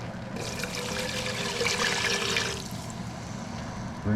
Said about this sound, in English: Now he's going to add in the water. We'll thicken her up.